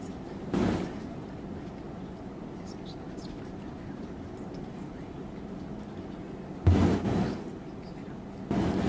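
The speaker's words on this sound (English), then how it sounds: "The banging and fireworks you hear will continue throughout this trial." Banging and fireworks go off outside during a courtroom trial, heard as three separate muffled booms spaced several seconds apart over a quiet room hum.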